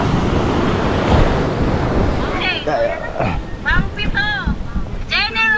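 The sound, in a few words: ocean waves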